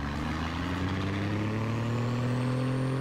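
A modified car's engine rumbles inside a tunnel in Car Parking Multiplayer: a deep, steady, close drone whose pitch climbs slowly as the car speeds up, with no voices.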